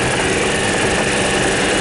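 Steady, loud close-range drone of a governed Club Car golf cart engine held at wide open throttle, an even mechanical hum with no voices.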